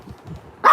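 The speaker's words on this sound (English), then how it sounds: "Stop barking. This dog is in like guard dog alert now." A dog on guard alert lets out a single sharp bark near the end. Before it comes a low, murmuring background.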